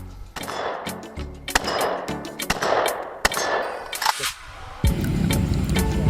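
A toy pistol fires a quick series of sharp, snappy bursts with short pauses between them. The shots are close and loud, and the firing ends in a steadier, coarser noise.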